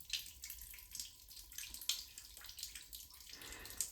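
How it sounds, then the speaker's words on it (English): Water sprays out of a rock formation inside the Rawhide Mine, a faint, steady hissing splash with soft drips, heard alone without talk. "This one's just spraying water out and onto this area."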